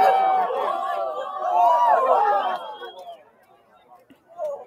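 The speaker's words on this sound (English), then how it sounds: "No, we hear the crowd." Crowd of people chattering at a solar eclipse viewing, a dense hubbub of many overlapping voices close by that thins out and fades toward the end.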